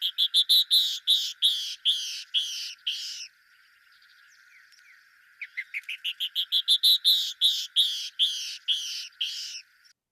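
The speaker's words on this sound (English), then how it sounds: "that's a female canyon wren." Bright, buzzy chirps from a female canyon wren repeat in quick series that rise and fall, a short pause, then another rapid run of similar notes, fairly distinct against a quiet background.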